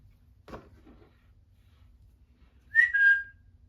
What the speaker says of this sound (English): hopefully it'll whistle just one time like it should